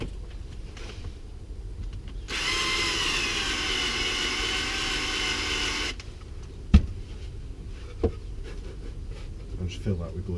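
A power drill whirs for about four seconds while re-drilling a hole in a wooden Layens hive, a loud steady buzzing whine close by, followed by a couple of sharp knocks and quieter workshop sounds.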